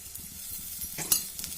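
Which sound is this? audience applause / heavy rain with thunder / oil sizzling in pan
oil sizzling in pan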